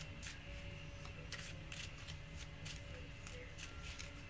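A deck of cards being shuffled for a spiritual card reading, with repeated rhythmic riffling bursts close by over a steady low background hum. No one speaks.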